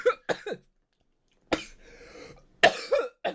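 Several dry coughs in short bursts, close and fairly loud, with a rougher throat-clearing rasp in the middle and brief silent gaps between.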